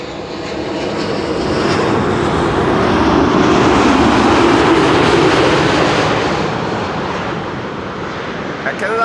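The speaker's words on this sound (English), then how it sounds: "Air Canada, flight 900, arriving from Montreal, Canada." An Air Canada flight 900 airliner from Montreal arrives at Amsterdam Schiphol's Kaagbaan runway, its engine roar swelling to a loud peak midway and then easing off, with a voice talking over it.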